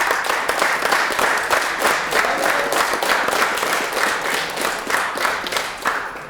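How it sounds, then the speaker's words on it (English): Audience at a Pittsburgh City Council regular meeting breaks into sustained applause: a dense, even wash of many hands clapping that holds steady throughout, with no talking on top. "And go ahead, clap."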